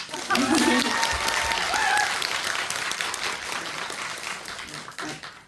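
Cinema audience at a film Q&A screening with the director and cast claps in a full, steady round of applause, faint voices underneath early on, the clapping gradually thinning and fading out near the end.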